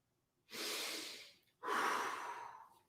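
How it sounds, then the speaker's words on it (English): Two long, airy nasal breaths from a singer doing a vocal warm-up, each a soft sustained rush of air separated by a brief pause, close and quiet with no talking. "You can do some nasal breaths too"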